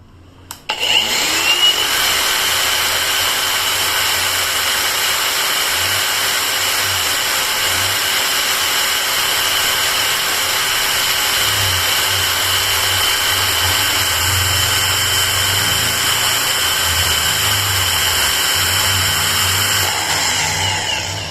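Dongcheng DCSP02-180 car polishing machine running at its maximum 3000 RPM setting, a loud, steady, high-pitched electric motor whine that spins up at the start and holds an even drone throughout, close to the microphone with no talking.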